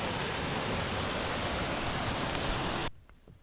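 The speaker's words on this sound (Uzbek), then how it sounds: "Mana kichik bir sharshara." A small mountain waterfall roars as a dense, steady rush of water on a high slope, close and loud, then cuts off abruptly near the end to a much quieter background.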